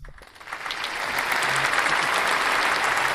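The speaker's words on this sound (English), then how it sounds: "Crowd goes wild." A crowd cheers and applauds in a dense, steady wash that swells over the first second and holds loudly to the end.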